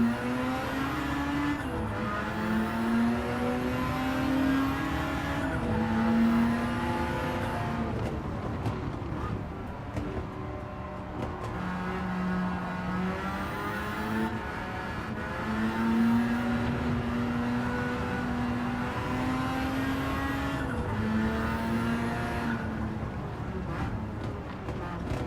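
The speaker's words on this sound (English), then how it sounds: "when that turbo kicks in at high RPM" A turbocharged car engine screams at high RPM in Gran Turismo 7, a loud, sustained racing drone whose pitch climbs and dips repeatedly through gear shifts, heard alone without talk.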